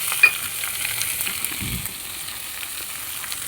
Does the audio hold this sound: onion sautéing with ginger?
yes